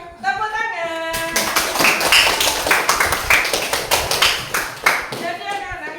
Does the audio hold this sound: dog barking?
no